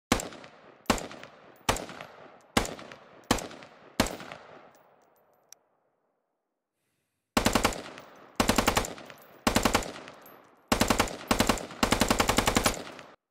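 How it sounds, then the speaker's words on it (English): A QSZ95-1 rifle in the video game Squad fires five loud single shots that echo away, then after a pause rips through several loud full-auto bursts, each longer than the last. "The PLA base rifle is the QSZ95-1. It has a 30-round magazine and can fire semi or full auto."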